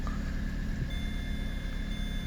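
A 2007 Opel Corsa D sounds its reverse-gear warning as a steady high electronic tone over the low hum of the idling engine, close and continuous through the brief moment.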